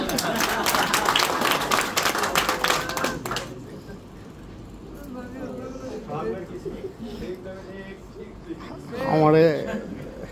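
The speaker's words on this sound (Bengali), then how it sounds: "দূরে একটা হাততালি হবে" Applause from an audience at a business development program in a hotel in Dhaka, loud dense clapping for the first few seconds that then stops, followed by a person speaking.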